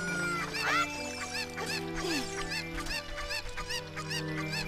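A chicken in The Legend of Zelda: Ocarina of Time 3D clucks repeatedly in short, close squawks over a steady background music bed, with no one talking.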